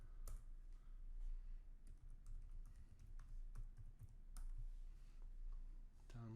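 Quiet computer keyboard typing of a Linux install command, with scattered soft key clicks and taps over a low steady hum and no speech.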